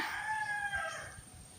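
A single rooster crows once, a drawn-out tonal call from a moderate distance, fading at the end with no talk.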